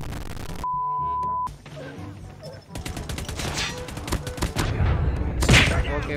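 Gunfire from a weapon in Call of Duty Mobile crackles in rapid, uneven bursts of shots, loud and close, after a brief electronic tone, with the volume climbing toward the end.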